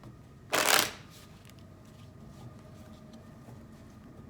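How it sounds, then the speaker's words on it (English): A deck of cards gets one quick riffle shuffle, a brief loud flutter close by, followed by quiet room tone. "this deck isn't willing to shuffle right for me"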